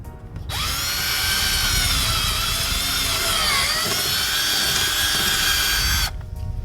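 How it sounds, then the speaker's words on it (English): A power drill whines steadily at high speed for several seconds, its pitch dipping briefly under load before it stops. "Just drill the hole straight down."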